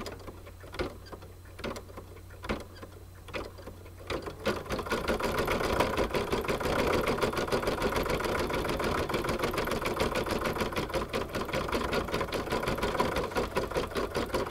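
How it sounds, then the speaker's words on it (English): An embroidery sewing machine runs a light zigzag stitch around an appliqué flower, starting with a few separate taps and then settling into a steady, fast mechanical whirr and clatter nearby. "it will stitch around that flower, around the different elements of the design with a lightweight zigzag stitch before it starts doing the satin stitching"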